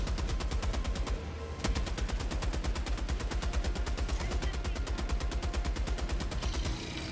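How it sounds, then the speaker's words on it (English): Heavy machine gun in Helldivers 2 firing a long, rapid sustained burst, loud and close, with a brief pause near the start before resuming steadily. "Took him out with the HMG."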